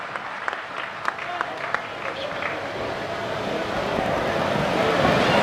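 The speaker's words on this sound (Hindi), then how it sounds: "जोरदार तालियों से आमंत्रण दें संजय शुक्ला जी आपके मध्य।" Scattered claps swell into loud, thick audience applause welcoming a poet onstage at a patriotic poetry event, building steadily louder toward the end.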